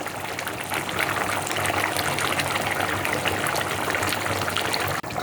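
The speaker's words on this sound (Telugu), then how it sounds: "ముక్క మునిగే వరకు నీళ్లు పోసి మూత పెట్టి మీడియం మంట మీద ఉడకనివ్వాలి" Water is poured into a pan of pandugappa fish pieces frying in oil for a fish curry, a steady close splashing gush that runs for several seconds before cutting off abruptly.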